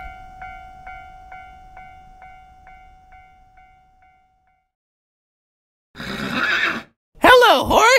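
A horse whinnies loudly and close, a wavering high neigh following a short burst of snorting, after a fading repeated tone and a brief silence.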